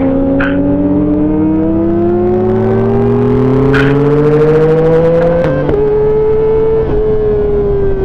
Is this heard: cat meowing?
no